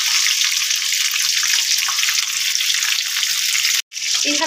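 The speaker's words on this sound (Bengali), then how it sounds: "একদিকটা ভালো ভাজা হয়ে গেছে, উল্টে দিয়েছি আর এক পিঠকে এরকম ভালো করে ভেজে নেবার জন্য।" Rui fish pieces frying in hot oil in a pan after being flipped, a steady dense sizzle that holds close and loud throughout, cutting out for a moment near the end before resuming.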